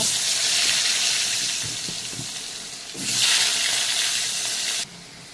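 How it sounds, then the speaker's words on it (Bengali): Potatoes frying in hot oil in a pan alongside already-fried katla fish heads: a loud, steady hissing sizzle that swells briefly partway through, with no voices. "এখন এর সঙ্গে আমি আলুগুলো ভেজে নেব"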